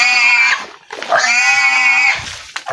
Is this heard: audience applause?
no